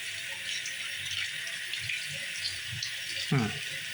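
Water runs steadily from a kitchen tap as a continuous broad hiss, fairly close, with a brief splashy gurgle near the end.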